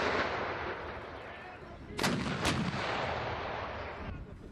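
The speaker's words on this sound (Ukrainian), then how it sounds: "Стріляють по команді. Постріл!" An artillery gun fires during an annual battery competition, one loud booming shot that rolls out over an open field. Someone speaks around it.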